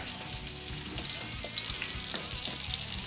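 Chorizo and suadero beef fry together in a pan for tacos, giving a steady close sizzle with occasional utensil scrapes and clatter throughout.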